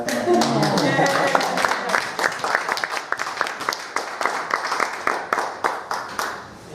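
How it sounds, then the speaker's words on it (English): An audience claps and applauds, dense at first and then thinning into scattered individual claps that fade out. "I'd like to stand up and clap my hands."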